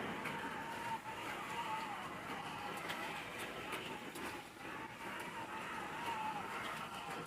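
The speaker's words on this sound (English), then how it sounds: "I got 4 cars running." Four toy cars run around a toy track set, giving a steady, continuous whirring motor buzz that holds at an even level throughout, with faint faster ticks layered over it.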